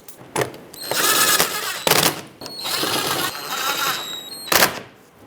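A power driver whirs in two sustained runs, sinking mounting screws through the front fender liner into the bumper of a 2010-2017 Chevrolet Equinox, with short clunks and clicks before, between and after the runs, close and loud.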